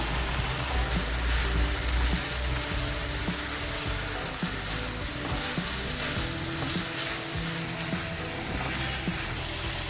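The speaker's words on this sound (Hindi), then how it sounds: "गाजर हमारी सौते हो गई हुई है" Julienned carrots for samosa filling sauté in a hot pan, giving a dense, continuous sizzle and crackle that stays loud and even throughout with no voices.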